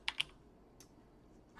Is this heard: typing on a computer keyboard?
yes